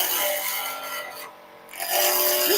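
Burr oak spindle blank being roughed down on a wood lathe, a steady close scraping rasp of the gouge against spinning wood that briefly eases off and then returns at full strength.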